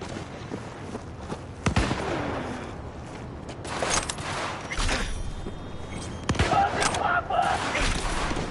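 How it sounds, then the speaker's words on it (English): Heavy gunfire in Cyberpunk 2077, scattered loud shots and bursts over a constant noisy battle background, with sharper cracks clustering toward the end. "Under heavy fire!"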